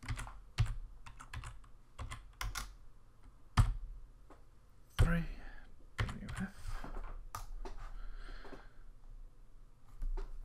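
Computer keyboard typing, irregular bursts of close clicking keystrokes with short pauses and a few heavier key thumps, no voices.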